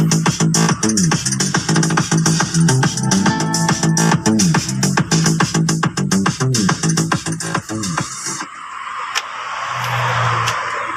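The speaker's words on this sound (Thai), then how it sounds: "เริ่มเช็คเสียงกลางนะครับผม" Loud music with a thumping beat plays through car midrange speakers for about eight seconds, then cuts off, leaving quiet outdoor hiss and a faint low hum.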